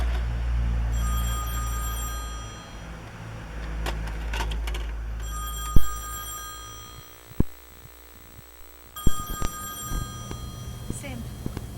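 An old telephone bell ringing in a Doctor Who episode, with repeated rings over background hum and a few sharp knocks between them.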